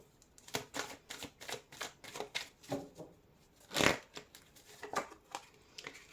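Oracle cards being shuffled and laid out on a table: a quick run of close, crisp riffles and taps in an uneven rhythm, with one louder burst partway through.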